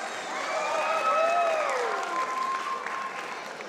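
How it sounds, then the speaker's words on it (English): Sustained audience applause after a Nepali cultural dance and song at a Diwali Milan celebration, a dense, steady wash of clapping with a sung or tonal line sliding through it before it slowly tapers. "Can we please get another massive round of applause for Dr. Shashank Desai?"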